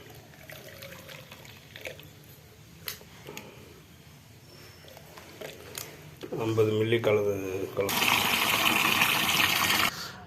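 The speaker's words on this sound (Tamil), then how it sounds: "50 மில்லி பஞ்சகவியத்துக்கு 1 லிட்டருக்கு தண்ணி கலந்துருக்குறீங்க" Water pours into a small batch of panchagavya solution, about 50 ml diluted in a litre, mixed for spraying betel vine plants; a loud gushing pour at the end follows quieter handling noises and a brief spoken word.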